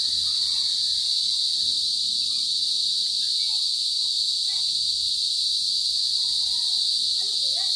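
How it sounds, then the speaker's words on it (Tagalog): A loud, unbroken shrill trill of many crickets fills the night air with a steady, dense drone, close and with no voices over it. "Ang ingay ng kuliglig."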